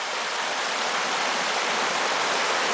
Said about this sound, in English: the water flow will come along these banks and will still flow through these middle